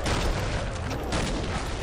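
Explosions and blasts in the Killing Floor 2 video game, a dense, continuous roar of booms and gunfire-like bursts filling the whole clip at steady loudness.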